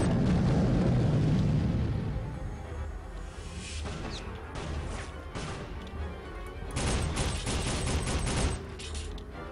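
Gunfire in the Soldier of Fortune video game, with a heavy blast at the start followed by rapid clattering bursts of shots and crashing impacts, loud and continuous.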